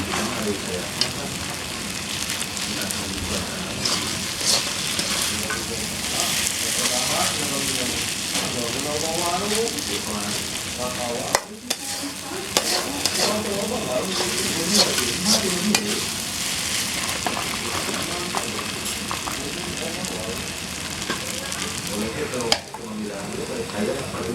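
Mie goreng fried noodles frying in a pan, a steady sizzle with repeated scraping and stirring strokes throughout, loud and close, with brief pauses between bursts of stirring.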